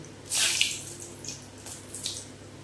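Whole dried red chillies drop into hot oil for a katla fish curry, a loud hissing burst of sizzle that flares again in shorter spurts before settling.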